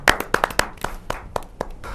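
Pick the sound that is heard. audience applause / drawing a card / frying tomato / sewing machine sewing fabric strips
audience applause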